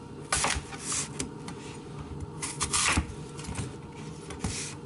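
Knife cutting crisp Pacific Rose apples into quarters on a cutting board, several sharp crunching chops and scrapes scattered over a quiet room tone, close and fairly soft, no talking.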